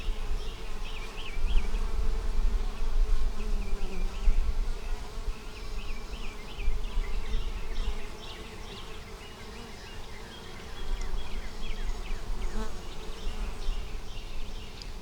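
Honeybees buzz steadily around frames lifted from a hive holding nectar and honey, a dense close swarm drone with sharper individual wingbeat whines rising over it, no talking.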